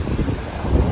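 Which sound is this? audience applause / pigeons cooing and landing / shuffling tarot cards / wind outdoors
wind outdoors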